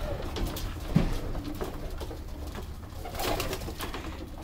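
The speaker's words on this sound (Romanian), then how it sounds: "Porumbeii de la lotul de zbor" Racing pigeons coo in a loft, soft low throaty calls repeating at close range over a steady room-like background, with no talking.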